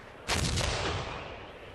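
A cannon fires once in a single heavy boom as troops and crowds clash at the storming of the Bastille, a loud broadband blast with a long rumbling decay.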